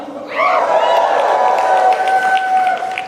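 A conference crowd in Tampa bursts into sustained applause and cheering as a speaker walks onstage, loud and steady for a few seconds, with a rising tone briefly swelling over it.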